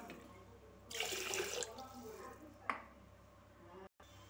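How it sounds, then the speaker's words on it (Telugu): Drinking water poured from a glass onto rice washed three times, a close splashing pour that swells for about a second, then a second shorter splash, with faint background noise. "3 times కడుక్కున్నాక డ్రింకింగ్ వాటర్ అనేది యాడ్ చేసేసుకుంటున్నా."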